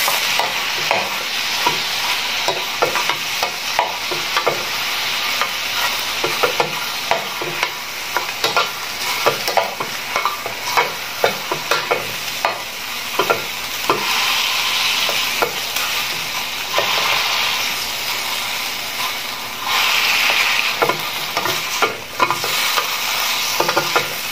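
Garlic longanisa sausage frying in a pan, a loud steady sizzle with repeated close scraping and clacking of a spatula stirring the pieces, no talk.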